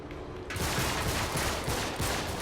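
Rapid bursts of gunfire in the video game Uncharted 3, with dense overlapping shots that start abruptly and continue loudly to the end without pause.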